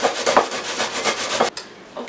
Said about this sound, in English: And I'm going to grate all of these.